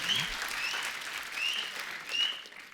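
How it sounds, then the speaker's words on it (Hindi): A studio audience on The Kapil Sharma Show applauds Sanjay Dutt's entrance with a soft, continuous wash of clapping and a few thin whistles rising above it. "एक बार जोरदार तालियां संजू पाजी के लिए"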